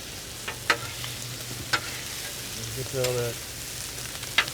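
Spicy beef and broccoli with garlic and sriracha being stirred and tossed on a Blackstone griddle, giving a soft steady sizzle broken by sharp scraping clicks of the spatula, with brief speech.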